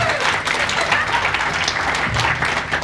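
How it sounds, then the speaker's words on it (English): Guests at a fundraising dinner in Westlands, Kenya give a brief round of applause, many hands clapping in a close, busy patter with faint crowd murmur beneath. "Can you clap for Mariam? Big round of applause."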